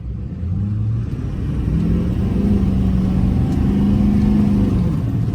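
A stock LBZ Duramax diesel pickup in 4-wheel drive revs and accelerates, its engine rumbling loud and close and rising steadily in pitch as it pulls.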